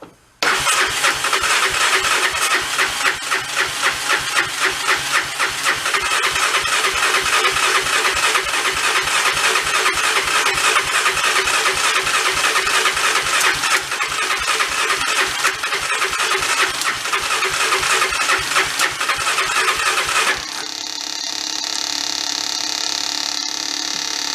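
A Honda 4x4 ATV, the brand's first, with a previously blown engine, cranks steadily with a rapid, even churning rhythm for about twenty seconds, then drops to a lighter, smoother idle-like drone, loud and close with no talking.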